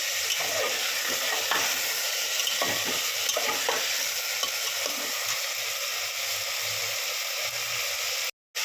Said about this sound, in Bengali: ডালটা ভালো করে ভেজে নিয়েছি এটা টমাটোর সাথে